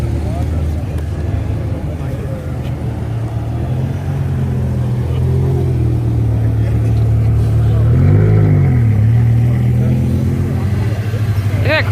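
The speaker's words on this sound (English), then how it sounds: "That's the V10 M5." A BMW M5 with a V10 engine rumbles close by, its revs rising and falling with a loud swell around the eighth second, over steady traffic noise and some background chatter.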